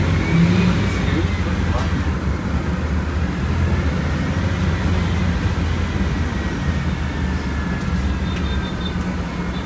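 The engine of a Volkswagen Volksbus 17.230 Euro 6 city bus rumbles loudly and steadily from inside the moving vehicle, a deep, continuous drone with road and body noise, while people talk over it.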